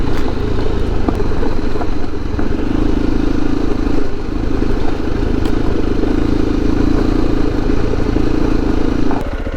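A motorcycle engine runs loud and close on a mountain trail in nature, holding a steady rumbling drone with a faint mechanical clatter throughout and no talking.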